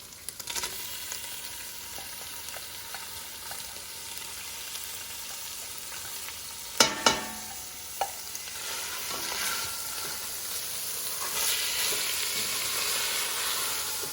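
Ground beef with mushrooms, onions and garlic sizzles in a pot for a Sunday tomato sauce. A steady frying hiss runs throughout, a few sharp clanks land near the middle, and the sizzle swells toward the end. No one speaks.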